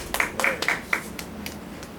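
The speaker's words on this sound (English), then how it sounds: "So give her a round of applause" Scattered audience clapping at a library lecture for an Emancipation address, with a few distinct sharp claps at the start that thin out into a light, sparse patter from a small crowd.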